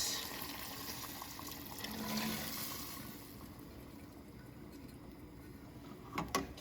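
Stock mixed with hot kettle water pours into a cooking pot for oxtail, a soft continuous splashing and trickling that fades after a few seconds, ending with a couple of faint clinks.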